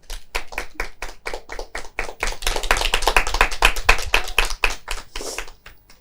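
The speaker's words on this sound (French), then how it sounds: "Public, applaudissez-vous." A studio audience at a French debate show claps: sparse, distinct hand claps at first, then a denser burst of rhythmic applause mid-clip, thinning out again toward the end.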